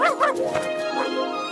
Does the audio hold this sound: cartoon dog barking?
yes